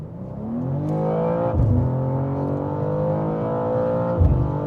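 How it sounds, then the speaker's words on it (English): A 2023 BMW M2 G87 accelerates hard from 100 to 200 km/h on a curvy road with two people aboard and a full tank. The engine note rises steadily and breaks briefly at two gear shifts, heard from inside the car. "let's now measure the 100-200 of the new BMW M2"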